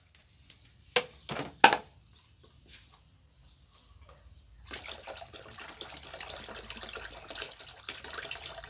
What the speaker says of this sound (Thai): แล้วก็เทใส่รวมกันในกระมังเลยค่ะ